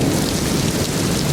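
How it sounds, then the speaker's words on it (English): Heavy rain pours during a thunderstorm at a lakeside camp in Voyageurs National Park, a loud dense wash of rain with low rolling thunder underneath, steady and unbroken. "It's just non-stop thunder and lightning."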